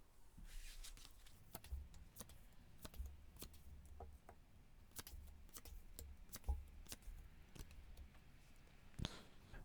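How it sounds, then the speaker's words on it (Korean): Tarot cards are shuffled and drawn up close. Soft papery riffles and crisp ticks come in an irregular rhythm, quiet and alone with no talking. "제가 카드 뽑아볼게요"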